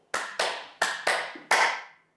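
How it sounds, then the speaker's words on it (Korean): Hands clap firmly as an indoor clapping exercise: five loud, close, ringing claps in an uneven rhythm, with no talking. "박수치기 운동입니다."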